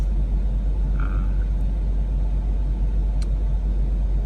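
A 2017 Ford Mustang engine holds a steady high-RPM drone, a constant loud rumble with no rise or fall, heard alone.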